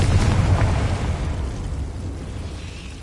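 A Confringo spell explosion in the video game Hogwarts Legacy: one heavy, close blast that booms and then rumbles, fading steadily over about three seconds, with no voices.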